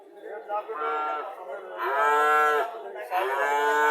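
Sahiwal-breed heifer calves at a cattle sale moo three times in close succession, the calls loud and near, each a drawn-out harmonic bellow with the middle one strongest.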